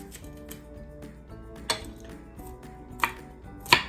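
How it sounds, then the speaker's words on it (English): A knife cuts a jalapeno into chunks on a cutting board in a few distinct chops, with light taps in between and a sharper final thunk, close and fairly quiet. "Just cut your jalapeno into a couple chunks"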